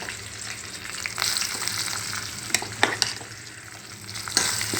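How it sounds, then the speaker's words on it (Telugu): Ground ridge gourd paste sizzles and fries in a pan with curry leaves and turmeric while being stirred, a steady close crackle broken by occasional sharp scrapes and knocks of the spoon. "ఇప్పుడు మిక్సీ పట్టినటువంటి బీరకాయని మిక్సీని ఇందులో వేసుకోవాలండి"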